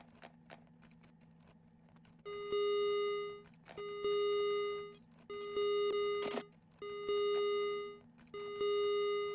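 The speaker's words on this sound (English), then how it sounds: "Alarm, go away." Repeated electronic alarm beeps from the Ostranauts spaceship game: five long, loud, buzzy tones in a steady on-off pattern over a quiet hum, with a few small clicks between them.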